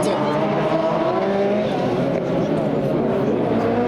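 Peugeot 208 touring race cars at a Tourisme Cup circuit round, engines roaring loudly and continuously at high revs with a steady droning whine, a voice talking over the racket.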